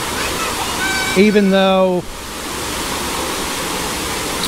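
A small waterfall at Libnaman Falls in Naga City, Philippines, gives a loud, steady roar close to the microphone. A voice briefly speaks and hums over the rushing water partway through.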